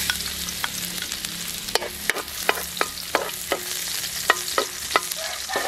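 Ginger and garlic sizzle steadily in a pan for beef dinuguan with squash, while a spatula stirs and scrapes at irregular intervals, leaving sharp clicks above the close, continuous frying hiss.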